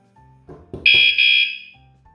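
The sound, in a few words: Vanolarm Lite vibration alarm pre-warning sounding after table tap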